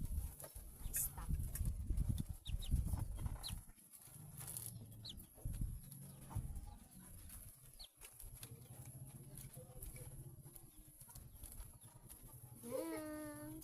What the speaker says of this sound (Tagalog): May mga manok sa likod ng cellphone guys.